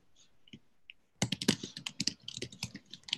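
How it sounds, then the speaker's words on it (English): Keys clatter on a computer keyboard in a quiet room, starting with a few faint isolated clicks and then breaking into a dense, close burst of rapid typing with uneven rhythm. "just typing up the last couple of notes while I've been chatting"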